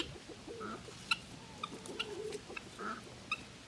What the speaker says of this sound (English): What's up, Turkey Lurkey? You got something to say, sweetheart?